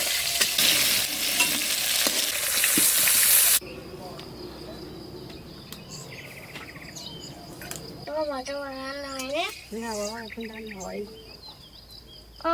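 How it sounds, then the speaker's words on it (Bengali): Pointed gourd (potol) pieces frying in hot oil make a loud, dense, close sizzle for the first few seconds. A quieter kitchen background follows, with people talking. "পটলগুলো হালকা করে ভেজে নিয়েছি, আর তুলে নেব।"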